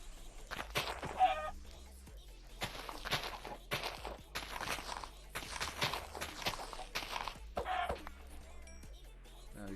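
Minecraft chickens cluck in short bursts amid a steady patter of game footsteps, quiet and close, with a few scattered clicks and no voices.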